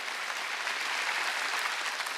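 A church congregation at a Wednesday worship service applauds together, a sustained, even crackle of many hands clapping, moderately distant and steady throughout without voices on top.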